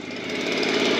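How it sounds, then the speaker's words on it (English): A leaf blower runs close by with a loud, steady engine roar and buzzing whine that swells slightly, heard on its own. "he's going to go with the leaf blower"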